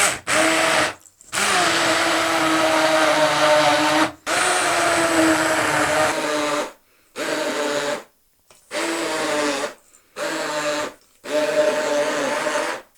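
A hand blender mixing thick halva whines loudly in about eight separate bursts of one to three seconds each, broken by brief silent pauses, with no speech.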